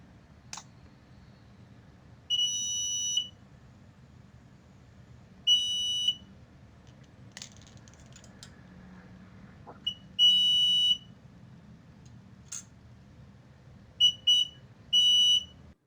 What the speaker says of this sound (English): Whenever anything passes through it, it will make a beeping noise.